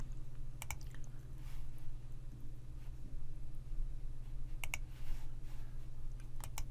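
Mouse buttons click to select and deselect wells in Empiria Studio software, a few sharp, close clicks, some in quick pairs, spaced out over a steady low electrical hum.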